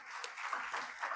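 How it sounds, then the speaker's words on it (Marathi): Audience at a business award ceremony clapping in a brief, faint burst of applause. "टाळ्या वाजत राहिल्या पाहिजेत."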